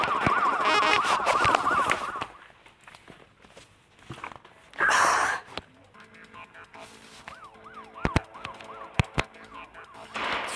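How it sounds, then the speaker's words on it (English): A video game police siren in Smashy Road wails, rising and falling early on, then fades and returns faintly amid thumps, a brief loud burst, and sharp impact clicks. "police siren just faded away"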